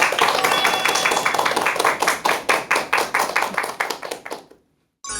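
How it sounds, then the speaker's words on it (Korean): Audience clapping at a Korean health lecture series, a fairly loud burst of hand claps that thins to a few distinct slow claps and stops near the end. "큰 박수 부탁드립니다."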